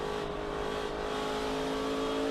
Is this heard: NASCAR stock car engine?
yes